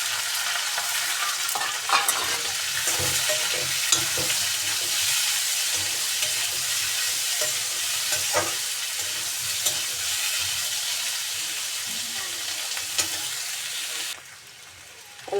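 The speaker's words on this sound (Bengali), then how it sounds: "আমার আলুগুলো ভাজা হয়ে গেছে, আর একটু ভাজা হবে, এর সাথে পেঁয়াজগুলোও ভাজা হয়ে যাবে" Potatoes and onions frying in a pan while a spoon stirs them, with a steady close sizzle and repeated scraping strokes that run unbroken for most of the stretch before dropping off near the end.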